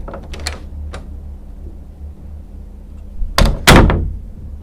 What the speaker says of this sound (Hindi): उस रूम का जो दरवाज़ा है वो अपने आप ही बंद हो जा रहा है और खुल जा रहा है।